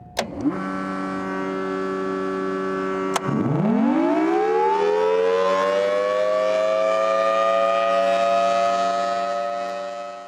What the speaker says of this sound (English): we can actually make the siren go around like this also